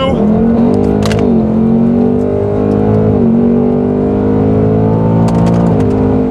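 2024 Ford Mustang Dark Horse engine revving in sport mode while dropping through gears on the paddle shifters, with a steady loud drone and pitch steps at each downshift over about six seconds.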